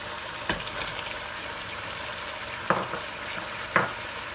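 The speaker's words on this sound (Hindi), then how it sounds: "गोश्त को हमने 3 से 4 मिनट भून लिया है अच्छी तरह से फुल आंच पे" Mutton pieces fry on full flame in a pan, a steady sizzle broken by three sharp clatters of stirring or scraping, with no talking.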